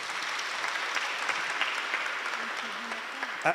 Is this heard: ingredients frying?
no